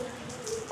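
Steady rain patters on a surface in a short, continuous wash of drops, fairly close and even in level, with no voices heard.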